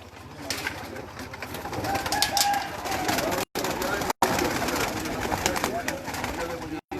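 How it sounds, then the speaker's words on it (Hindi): Hobby pigeons let out of their loft at a farm house near Islamabad, with steady cooing and rustling wings filling the air. Voices talk nearby throughout. "कुछ कबूतर निकाल दो ना बाहर।"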